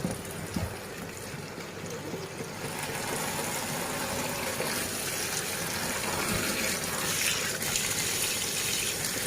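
Tap water gushes steadily into a bowl of vegetables being washed, a continuous close splashing pour that grows slightly fuller after the first few seconds, with no speech.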